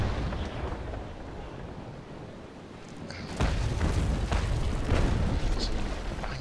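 Cannon fire from a sailing ship strikes the player's vessel in the Naval Action video game, a quiet rumble giving way to a run of loud booming impacts and crashing thuds in the second half.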